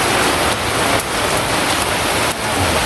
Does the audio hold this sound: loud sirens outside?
no